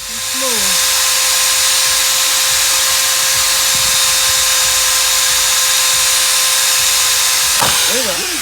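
A power drill bores a hole during an oil separator install on a 2015-2018 Ford F150 with the 3.5-liter engine, running loud and steady at close range for about seven seconds, with voices briefly heard at the start and end.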